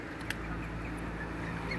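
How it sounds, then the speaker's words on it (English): Geese and ducks calling at a pond, faint distant honks and quacks under a steady ambient hum and wash of outdoor noise. "So we've got the usual mix: geese, ducks."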